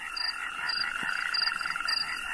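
A chorus of natterjack toads (Bufo calamita) keeps up a continuous rattling trill, with louder calls standing out at regular intervals of roughly half a second, near and unbroken with no voices.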